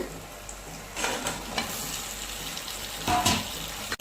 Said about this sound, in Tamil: இப்போ அப்படியே சிம்மிலேயே வச்சு வதக்கலாங்க